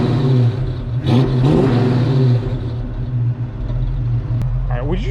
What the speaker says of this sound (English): would you just listen to that thing on idle? That thing sounds so good.